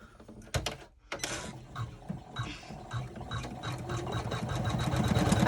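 An embroidery machine stitches the tack-down line of an in-the-hoop cell clutcher wallet, a steady rapid mechanical chatter that pauses briefly, then resumes and builds louder, close and alone.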